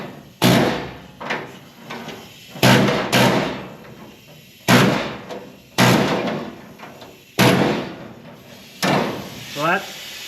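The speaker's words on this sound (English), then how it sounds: "And I'm gonna use the air hammer here." An air hammer fires in short bursts against the rocker body metal of a 1969 VW Bus, about six sharp rattling blasts with pauses between, close and loud.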